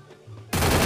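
Gunfire in a shooting video game, a sudden loud burst of automatic fire cutting in sharply after a moment of quiet.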